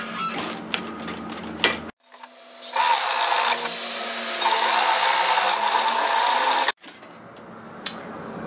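A sewing machine stitches 1 centimeter seams along fabric robe ties, with a loud whirring run between quieter stretches of fabric handling and clicks, close by.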